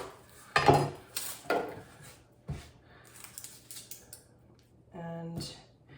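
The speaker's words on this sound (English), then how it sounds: "gonna slice up a couple onions here" An onion sliced on a cutting board with a knife, a few separate sharp chops spaced irregularly with quiet gaps between them, close and fairly soft, ending with a scraping clatter.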